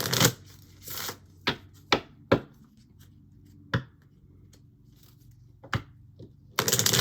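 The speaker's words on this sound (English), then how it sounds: "I'm going to shuffle these" A deck of tarot cards is shuffled by hand close up, with scattered sharp riffles and soft slaps separated by quiet pauses, and a denser flurry at the end.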